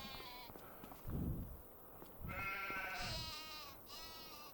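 Sheep in Farming Simulator 25 give several harmonic bleats in succession, some overlapping, close and fairly clear over soft background thumps.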